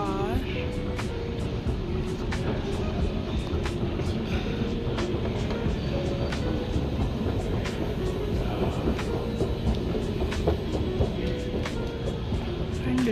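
A metro train rumbles steadily with rhythmic clacking from the tracks, a continuous loud roar with faint voices underneath.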